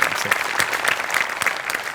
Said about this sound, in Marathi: सरांसाठी एकदा जोरदार टाळ्या.